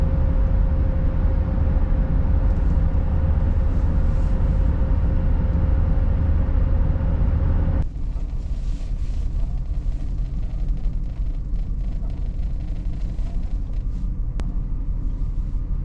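A faulty 1983 Jaguar XJ6 drives along in a low, steady cabin rumble of engine and road noise, with a droning hum that drops away midway as the load eases, then a lighter rolling rumble continues with no speech.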